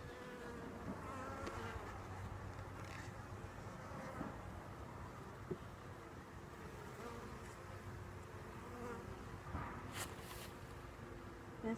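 Honeybees buzz steadily from an open hive during spring inspection, a dense, low droning hum that stays moderately near and constant, with faint handling bumps and no speech.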